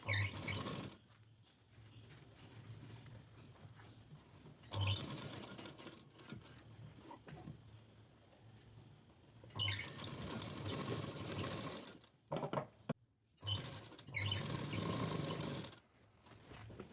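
Sewing machine stitching a blouse sleeve, running in several bursts of rapid close whirring with short pauses and quiet gaps between them.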